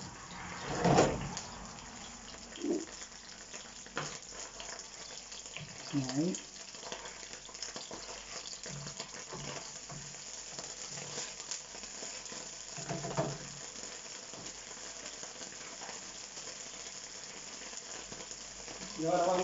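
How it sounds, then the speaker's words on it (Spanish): Fried tomato sizzling in a paella pan outdoors in the countryside, a steady close crackle with intermittent scraping stirs and faint voices in the background. "Vamos a echarle un poquito de tomate frito."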